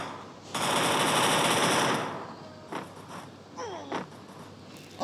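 MP40 submachine gun fire in the Free Fire video game: one sustained burst of rapid automatic shots lasting about a second and a half, followed by a few sharp clicks and mechanical game sounds.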